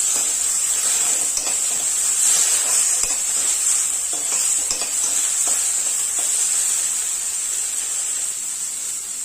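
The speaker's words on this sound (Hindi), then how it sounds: "अच्छे तरीके से इसे लाल कलर तक भून लेंगे धीमी आंच पे।" Finely chopped onion fries over a low flame in a pan with a steady, close sizzle and hiss. Faint stirring taps come through now and then, and no one speaks.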